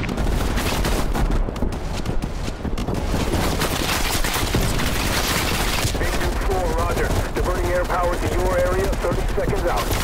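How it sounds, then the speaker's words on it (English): Dense gunfire from the video game Call of Duty Black Ops Cold War, loud and continuous bursts and volleys with booming impacts throughout, overlapping a chaotic game soundtrack. "I keep hearing gunshots"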